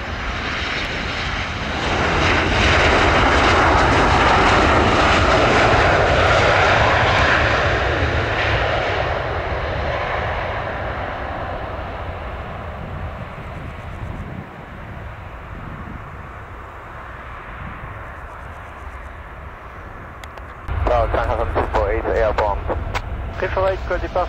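Airliner jets landing and taxiing at Paris CDG give a loud, close engine roar that swells early, then fades to a lower rumble before a fresh burst of noise near the end, with radio voices underneath.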